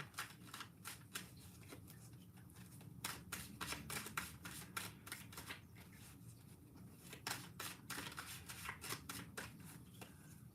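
Soft, repeated riffling of tarot cards being shuffled close by, in quick bursts with short pauses between, quiet overall and no talking.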